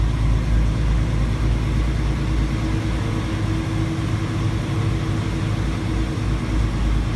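A truck drives through an underground cave, its engine a steady, close, low rumble that holds evenly throughout with no voices.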